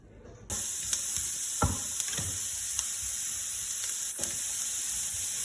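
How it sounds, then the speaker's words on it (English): Fat sizzling in a hot frying pan while the pan is glazed for banting-style mince meat: a sudden loud, continuous hiss and crackle starting almost at once, with occasional sharper pops and scrapes, close and steady. "And now I'm just glazing over the pan, and it's just taking the fat that it needs."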